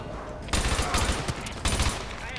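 Gunfire in Call of Duty Modern Warfare 2 Remastered during a hostage rescue: two loud, close bursts of rapid automatic shots, the first longer and the second shorter, separated by a brief lull.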